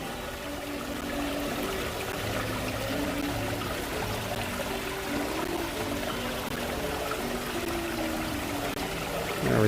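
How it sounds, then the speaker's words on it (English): Steady rush of an indoor waterfall in the lobby of Disney's Polynesian Resort, a continuous splashing stream with faint crowd murmur beneath, constant and fairly loud throughout. "that beautiful sound of the waterfall"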